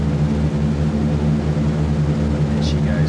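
B-17 bomber in a video game, its propeller engines droning steadily and loudly during the takeoff roll, with a couple of faint higher tones near the end and no talking over it.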